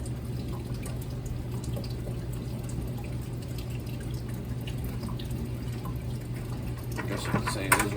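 Leftover water drips and trickles through a check valve in a hot heating system after the circulator pump is removed, a steady faint dribble over a low hum that picks up near the end, with no talk.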